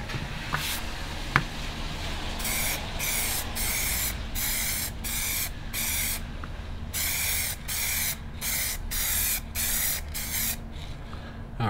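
Montana Metallic Effect purple spray paint sprayed from a can in a series of short, rhythmic hissing bursts separated by brief gaps, steady and close, with no talking.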